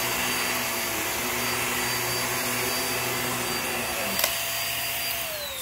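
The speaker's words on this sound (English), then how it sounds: "this Hoover has picked up absolutely all of that pet hair" A Hoover React cordless vacuum cleaner runs steadily on carpet with a constant close motor whine and a faint brief click near the end, no talking.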